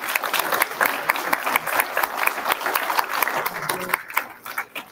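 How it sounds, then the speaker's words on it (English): Audience applause at a winter lecture on the Bellaire High School archive, a steady wash of many hands clapping at moderate level, thinning and breaking up toward the end. "if we could give one more round of applause to Mr."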